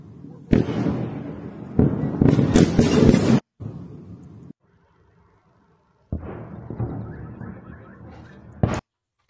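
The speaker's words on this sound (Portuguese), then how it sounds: "não dá para ver muitas explosões, mas dá para ouvir com muita clareza as explosões lá" Explosions from a bombardment in Belgorod, heard as a series of loud, dense blasts and crackling bursts in clusters separated by short quiet gaps, ending with a sharp final bang.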